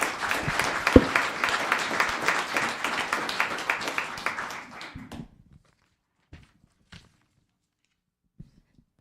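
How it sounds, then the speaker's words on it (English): Audience applause fills a town council meeting chamber, a steady dense clapping for about five seconds that stops abruptly, followed by near silence with a few scattered knocks and shuffles. "One more round of applause, please."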